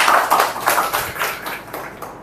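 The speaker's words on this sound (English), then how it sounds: "Clapping for her." Audience clapping at a public speaking session in an institute hall, a burst of several hands clapping in uneven rhythm at moderate loudness that tapers off toward the end.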